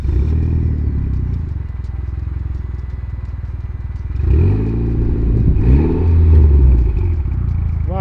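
Mitsubishi Lancer Evo with a cat-back exhaust revving up loudly and close, a steady rumbling idle rising into two strong throttle blips before settling back down.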